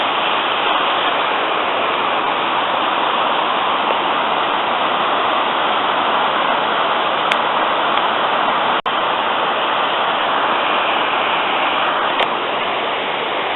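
A river near Ffestiniog seen from a bridge, its steady broadband rush of flowing water running loud and unbroken throughout, with no voices.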